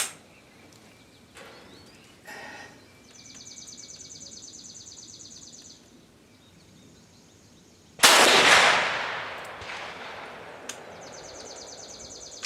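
A rifle fired with a test powder charge gives one loud sharp blast, followed by a decaying echo, against quiet outdoor background with faint bird calls.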